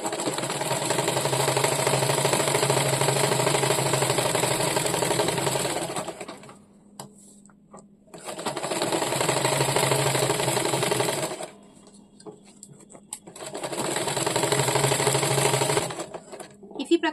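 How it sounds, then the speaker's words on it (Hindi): A sewing machine stitches on paper in three long steady runs of rapid mechanical clatter, each several seconds, separated by brief pauses with light handling noises. "इस तरह से अगर हम लोग पेपर पे सिलाई करें तो हम लोग का कपड़ा भी नहीं खराब होगा"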